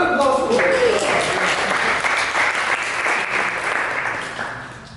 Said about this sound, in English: Round of applause for Rich.